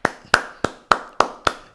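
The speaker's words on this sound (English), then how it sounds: "let's just clap" Hands clapping in appreciation of teachers, six sharp, evenly spaced claps about a third of a second apart, close and crisp with no talking.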